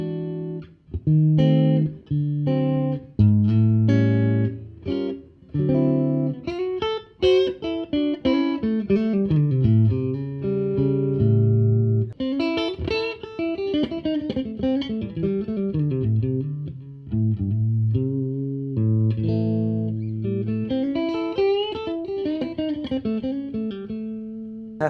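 A Stratocaster electric guitar on its middle pickup plays a clean, bluesy run of single notes and bends, phrases rising and falling steadily with brief pauses, clear and close, no voices.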